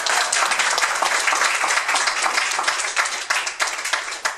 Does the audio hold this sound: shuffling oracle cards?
no